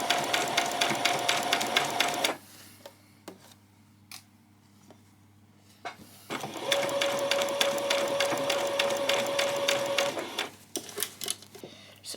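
A sewing machine runs a normal stitch along a skirt carrying three rows of ruffles, in two long steady bursts of rapid mechanical chatter separated by a quiet pause, with small clicks and handling noises between runs.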